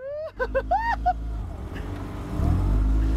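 A motorboat engine revs up, building into a louder, rougher low roar near the end, following a brief burst of high whistled or squeaky tones at the start.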